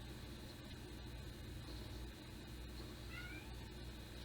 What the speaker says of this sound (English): And you can hear cats in the background.